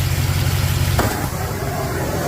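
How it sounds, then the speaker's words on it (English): A Cutlass car engine roars in a loud, continuous rumble close by, its tone shifting abruptly about a second in as the revs change, with no voices over it. "Cutlass up here getting rowdy."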